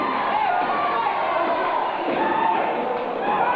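Wrestling arena crowd roaring continuously and loudly throughout a bout, a dense wash of cheering with occasional thuds from the ring.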